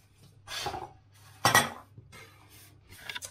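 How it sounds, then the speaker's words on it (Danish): Dishes and cutlery clink during washing up in a home kitchen while rice cooks, a few separate bright metallic clatters close by with quiet pauses between them. "Er der lidt mere opvask her?"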